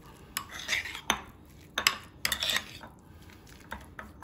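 A spoon clinks against a bowl while mixing vegan mayonnaise spread, with several sharp scrapes and taps spaced irregularly, close and fairly quiet.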